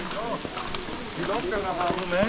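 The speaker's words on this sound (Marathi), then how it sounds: "आता कंटिन्यू पाऊस आहे" Continuous rain patters steadily in the background at Matheran hill station while a person talks over it.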